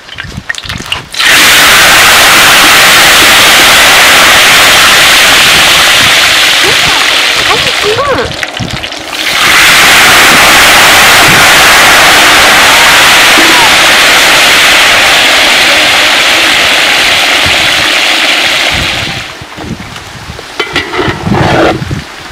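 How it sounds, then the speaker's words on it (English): Yam slices frying in a pan during outdoor village cooking, giving a loud, steady, close sizzle that briefly dips partway through before surging again and then fading out near the end. "So now I'm frying my yam,"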